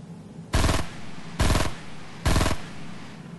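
Gunfire in the mobile Fortnite battle royale game comes as three sharp, evenly spaced bursts of rapid shots, each loud and brief with quieter game ambience between.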